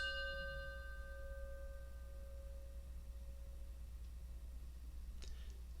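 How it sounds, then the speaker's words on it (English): A single chime rung during a memorial service opens with a clear tone that rings out and fades slowly over a few seconds against a steady low hum, followed by a soft click near the end. "As we listen to the chime, let us remember our connection to each other and the world around us."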